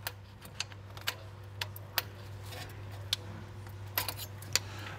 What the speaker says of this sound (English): I like to take a small flathead and just pry up the metal flap.